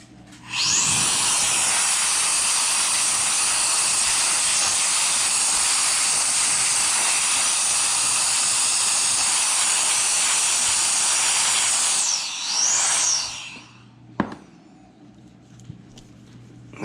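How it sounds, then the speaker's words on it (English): A small air blower runs at a bench during a repair, producing a loud, steady rushing hiss that starts abruptly, holds for about eleven seconds, wavers briefly, then cuts off. "So I do have this little blower thing. So let's turn that on."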